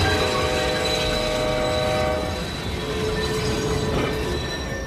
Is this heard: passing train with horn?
yes